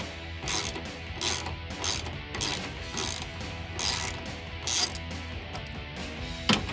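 A hand ratchet with a 10mm socket clicks steadily through repeated bursts as it backs out a headlight mounting bolt on a 2016-2021 Toyota Tacoma SR5, close and clear with no talk.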